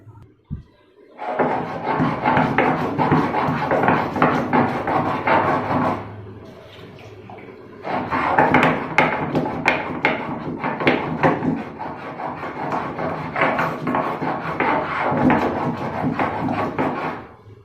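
Cardamom, cloves and cinnamon being ground by hand for garam masala, a rough rubbing, grating scrape on a stone in repeated strokes, loud and close, pausing briefly before resuming.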